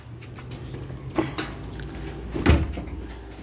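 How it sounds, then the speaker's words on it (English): A door in a small workshop room is pushed shut, with a couple of light knocks and movement before a final close thump near the end, quiet room tone around it. "So let me close the door."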